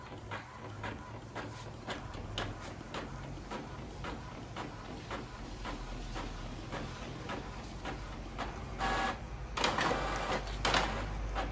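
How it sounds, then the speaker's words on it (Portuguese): An Epson L4150 inkjet printer printing a test page, with a steady mechanical whir and rapid clicking of the print head, and a few louder shuffles of the paper feed near the end. No one speaks. "Vamos aqui para a impressora aqui para a gente poder fazer uma impressão de teste"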